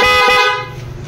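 One sustained, loud honk from the dual PIA horn on a Honda Wave 100 motorcycle, close by, cutting off after about half a second and leaving quiet background.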